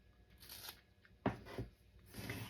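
Scissors snip homemade sticky tape for a journal, giving faint, close crisp cuts and rustling paper, with one sharper snip in the middle.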